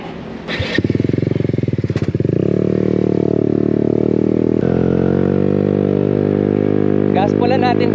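A 2022 Italjet Dragster scooter fitted with a Malossi CVT kit and Akrapovic titanium exhaust pulls away loud and close, its engine revving up into a steady droning run with a shift in pitch midway.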